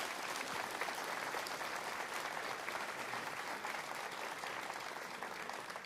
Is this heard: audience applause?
yes